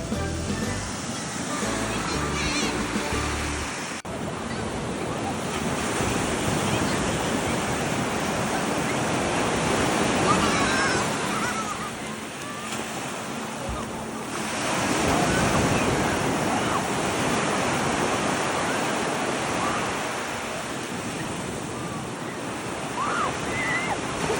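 Ocean surf rolls onto a Hawaiian beach reserved for military personnel, loud, broad washes of breaking waves that swell and recede in slow surges, mixed with wind buffeting the microphone, with a voice speaking briefly near the start.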